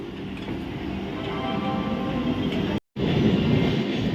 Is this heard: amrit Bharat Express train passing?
yes